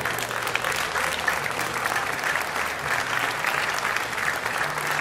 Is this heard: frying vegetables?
no